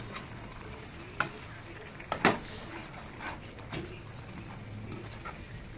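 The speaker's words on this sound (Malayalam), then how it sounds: "ഗ്രേവി ഈ പരുവാകുമ്പോഴത്തേക്കും നമ്മൾ വറുത്ത് വെച്ചിരിക്കുന്ന ചെമ്മീൻ ഇതിനകത്തോട്ട് ഇടുക." Fried prawns are dropped into a pan of gravy and stirred, giving a soft continuous sizzle broken by a few sharp clinks and scrapes of the spoon against the pan, with no talk.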